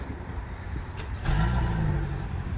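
A 2022 Hyundai Tucson Limited AWD engine turns over by remote start and settles into a steady idle, a low rumble rising in level partway through and holding close by.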